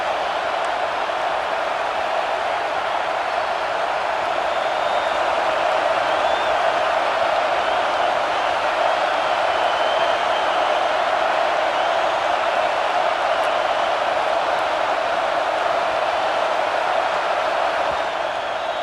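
Football stadium crowd at Penn State vs Michigan, a huge continuous roar from the stands that holds loud and level for the whole stretch, rising slightly in the middle, with no clear speech above it.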